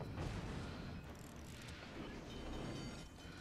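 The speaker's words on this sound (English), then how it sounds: "Torpedoes to start. Well, I love the sound effects." Torpedo explosions in the naval video game Bath Boats, a steady loud rumbling roar of booms and blasts with a heavy low-end wash that continues without a break.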